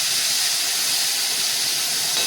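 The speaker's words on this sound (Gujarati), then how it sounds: "હિંગ નાખી આપણે તેલ વઘાર કરી" Asafoetida dropped into hot oil for a tempering while cooking palak paneer, a steady broad hiss and sizzle that stays even and close throughout.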